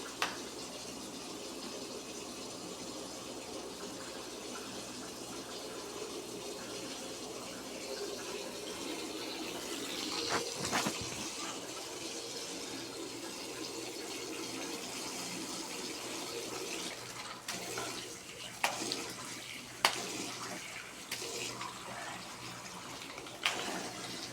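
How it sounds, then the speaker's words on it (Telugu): Tap water runs steadily into a bathroom sink during a nighttime face-washing routine, a continuous close rush with a few small splashes and clicks near the end. "సో నేను ఇప్పుడు ఫేస్ వాష్ చేస్తాను"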